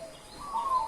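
A zebra dove (perkutut) at a breeding aviary gives a single brief, soft rising call. It sounds faint and close, with no talking.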